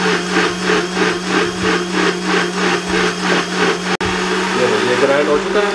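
An electric grinder whirs while blending ingredients for raita, a loud close motor drone pulsing in a steady rhythm, briefly cutting out once, then running on under a speaking voice.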